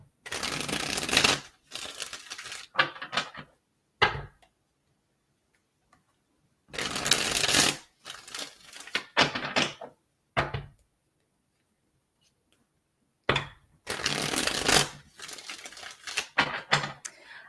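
Tarot cards being shuffled in several separate bursts, crisp riffling and flicking close to the mic, each flurry lasting a few seconds with silent gaps between.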